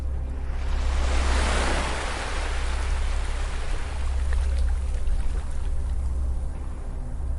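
Gentle ocean waves wash steadily onto a beach, a continuous broad rushing surge with a deep low rumble, swelling softly and easing again, fairly close and alone without voices.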